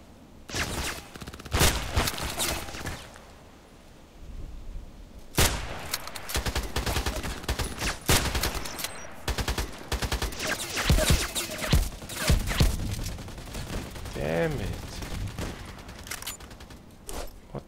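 Gunfire erupts in a night match on the Old Sawmill map, with loud volleys of rapid shots and repeated bursts after a short lull, close and dense throughout.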